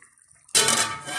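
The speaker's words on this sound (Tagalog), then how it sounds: "at takpan natin ulit mga kaguro." A lid is set down on a cooking pot of Valenciana, a Filipino rice dish, with a sudden clatter that gives way to a loud, steady sizzling hiss from the pot. There is no talking.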